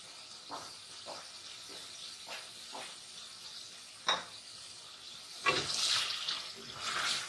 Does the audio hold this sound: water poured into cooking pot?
yes